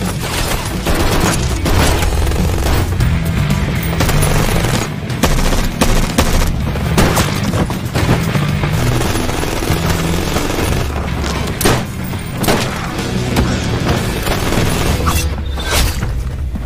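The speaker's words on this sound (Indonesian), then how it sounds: "Dan terjadilah keributan tembak-menembak antara mereka." A film gunfight with dense bursts of gunfire, booms and crashing impacts, loud and continuous throughout with rapid irregular shots layered over rumbling action noise.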